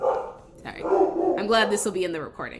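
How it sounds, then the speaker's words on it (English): Dogs barking and yipping in the background of a home video call, overlapping a person's apologetic speech throughout the short stretch. "I apologize for my dogs."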